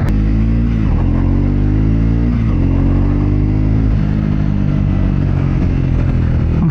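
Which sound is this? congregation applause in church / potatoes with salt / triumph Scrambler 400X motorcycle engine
triumph Scrambler 400X motorcycle engine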